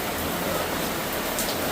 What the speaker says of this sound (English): tropical storm actually, intensified, pulling off to the north, bringing in all of the rain out of the south